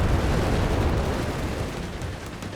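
Panther tanks shelling in Company of Heroes 3, a continuous dense roar of low rumbling bombardment and blasts that holds steady for a couple of seconds, then eases slightly.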